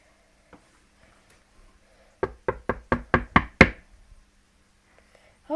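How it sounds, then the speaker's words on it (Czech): Seven sharp knocks on a door in quick, even succession, crisp and close, with near silence before and after. "Kdo to klepe?"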